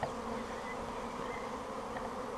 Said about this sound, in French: Donc là vraiment les abeilles sont vraiment à fond aujourd'hui.